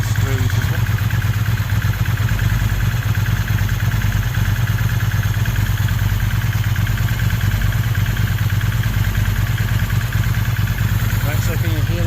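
A Ducati 916 motorcycle engine idles steadily at a slightly raised speed after pilot screw adjustment, with a loud, continuous low rumble and mechanical clatter throughout.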